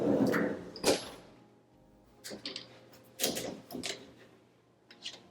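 A few separate knocks and clunks of double doors being opened, with short pauses between them, close by in a quiet, empty apartment room.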